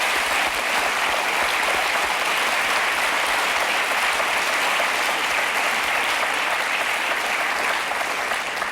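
A studio audience applauds for a birthday during a French television show, the clapping dense, steady and loud for the whole stretch.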